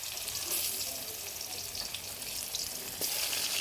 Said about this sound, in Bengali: এখন পটল ভাজা বয়াই দিছি।